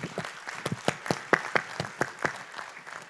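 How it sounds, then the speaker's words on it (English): An audience claps for the distinguished panel guests at a hunger conference, a steady round of applause with sharp individual claps standing out, moderately close and continuing without talk. "I would like to invite another round of applause"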